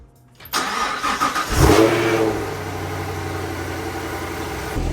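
A Camaro engine with a newly installed LT2 manifold cranks briefly and catches, then settles into a steady, loud idle that continues to the end with no talking.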